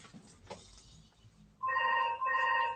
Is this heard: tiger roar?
no